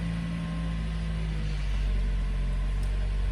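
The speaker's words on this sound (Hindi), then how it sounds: "अब गाड़ी को मैं स्टार्ट कर देता हूँ" A car engine runs at a steady low idle after an airbag fault repair, a quiet, even hum with a faint low drone and no revving.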